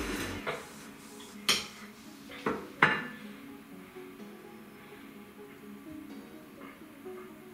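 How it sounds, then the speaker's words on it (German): Ice cream is put onto a plate beside caramel sauce in a kitchen, giving a few distinct clinks and knocks of spoon on crockery in the first three seconds, then quiet faint handling noises. "ich pack das Eis mal auf den Teller."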